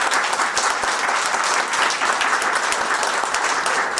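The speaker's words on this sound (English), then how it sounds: "How about one more big round of applause for everybody?" A town hall audience gives a loud, even round of applause, many hands clapping in a dense continuous wash for several seconds with no voices over it.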